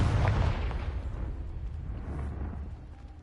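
A Confringo fire spell cast in Hogwarts Legacy bursts with a booming blast at the start, then rolls into a sustained rumbling wash that slowly fades.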